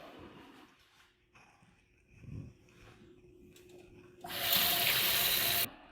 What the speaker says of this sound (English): And I'm going to run these under cold water.